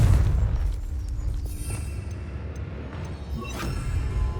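A heavy boom from a Confrigo blast spell in Hogwarts Legacy opens loud and deep, then decays into a rumbling tail with scattered crackles and a faint whooshing burst near the end.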